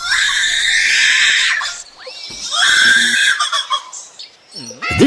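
A songbird mimics a crying human baby with loud, wailing cries, two long sustained bursts followed by shorter broken calls and squawks, heard alone with no talking.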